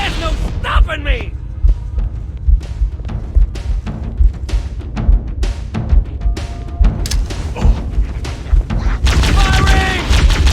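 Gunfire in the video game Halo: Combat Evolved, a rapid series of sharp repeated shots in bursts with booming impacts, loud and close, with in-game character voices shouting between volleys.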